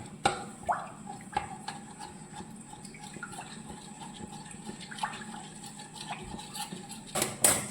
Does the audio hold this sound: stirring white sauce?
yes